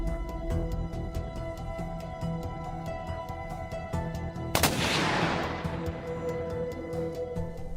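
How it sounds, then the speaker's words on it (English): A single loud rifle shot rings out at a boar in rugged mountain terrain, a sharp crack followed by a decaying echo over a steady background hum. "Isaac raises his rifle, aims precisely at the weak spot, and pulls the trigger."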